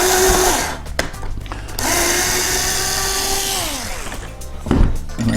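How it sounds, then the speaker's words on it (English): A power drill whines and bores into a part for a 480mm frame kit build, with several short bursts of the motor rising and falling in pitch and brief pauses between them, close and fairly loud. "And we'll hold it in place and we'll drill it."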